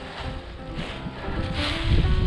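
Steady gusting wind buffets the microphone outdoors as a paraglider is launched, a broad rushing roar that swells louder toward the end with no talk over it.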